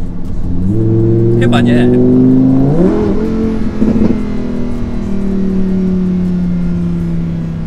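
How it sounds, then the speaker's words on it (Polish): Lamborghini Huracan EVO with a naturally aspirated V10 revs up in a rising, then falling engine note close by, while a person speaks briefly. "Czy może być coś piękniejszego niż dźwięk V10? I to naturalnie aspirowanego V10?"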